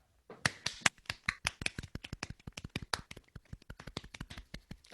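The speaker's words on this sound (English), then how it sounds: "Let us clap and cheer." A few people clap their hands in quick, uneven bursts of sharp, close claps that run nearly nonstop, loud at first and then lighter, with no talk over them.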